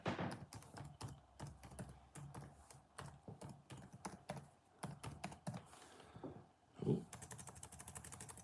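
Fast typing on a computer keyboard sounds up close, a steady patter of key clicks with a few short pauses and a louder thump near the end, with no voices.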